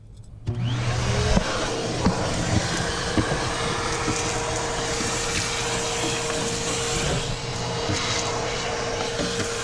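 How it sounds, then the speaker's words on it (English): A vacuum cleaner starts up and runs steadily with a loud, continuous motor whine and airflow roar, close by and alone. "ready to vacuum here"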